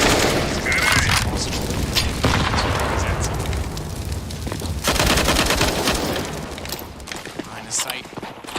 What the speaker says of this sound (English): And it's Flashbang!